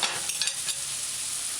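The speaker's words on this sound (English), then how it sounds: "Allow it to burn or fry on that side." Boneless chicken for curry fries in a pan with a dense, even hiss, a few light clicks early on and nothing else over the steady sizzle.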